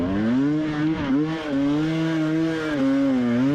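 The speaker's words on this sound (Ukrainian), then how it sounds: "Ось реве мій мотоцикл." An enduro motorcycle with an engine fault roars loudly and continuously at a cross-country race, its pitch dipping and climbing with the throttle.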